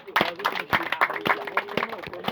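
An audience at a wedding dowry ceremony claps in a quick burst of sharp, irregular hand claps, with talk mixed in.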